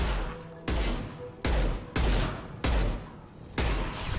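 Heavy pistol gunfire from Mass Effect Legendary Edition, five loud, sharp shots spaced roughly a second apart, each with a booming low-end thump and a short ringing tail, and no talking.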